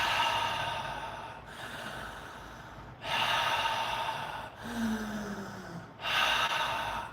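A person doing a standing breathing exercise in tree pose takes slow, deep, audible breaths, roughly four long airy inhales and exhales in a steady cycle, close up, with no speech.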